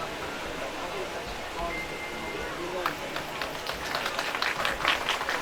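Audience clapping at a Nishad community annual general assembly, starting scattered and building into broad, fairly loud applause over a steady crowd murmur.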